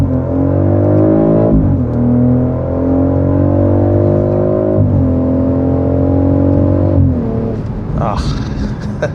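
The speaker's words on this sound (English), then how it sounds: "So I'll have a quick acceleration here." A 2025 BMW X3 M50 accelerates hard, its engine note rising in loud repeated sweeps as it climbs through the gears, heard from inside the cabin and ending with a lift-off.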